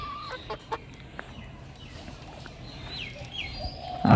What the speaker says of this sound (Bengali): এই যে আরেকটা খাঁচা আমার, এখানে 2টা দেশি মুরগি আছে